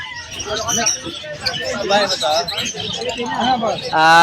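Gouldian finches and other caged birds at the Malabon pet market keep up busy chirps, tweets and soft cooing, close and fairly loud, with people's voices mixed in among the calls.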